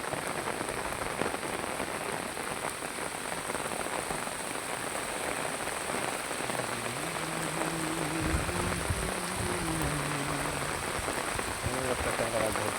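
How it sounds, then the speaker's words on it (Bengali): Heavy rain pours in a dense, steady hiss that fills the whole scene, and a low wavering hum rises underneath during the second half. "প্রচণ্ড বৃষ্টি হচ্ছে"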